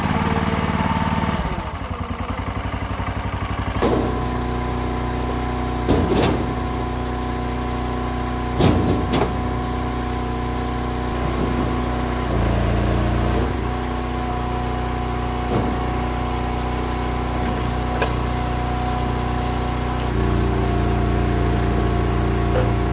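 A sawmill engine drones loud and steady while pine boards are milled, with a constant mechanical hum, occasional sharp clanks and shifts in load across more than twenty seconds.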